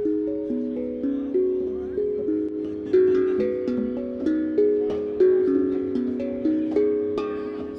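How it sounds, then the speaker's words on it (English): Metal tongue drum in an antique metallic finish, tuned to a specific scale, plays a slow melody of single ringing notes, each struck tone sustaining and overlapping the next in a steady, gentle rhythm. "these drums are, they're metal tongue drums. They're tuned to a very specific scale."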